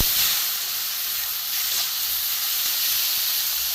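Masala sizzling and frying in a pan, starting to burn, gives a steady loud hiss that carries on unbroken and close by, with no voices.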